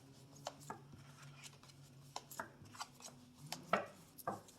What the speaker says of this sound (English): We're going to shuffle these back in.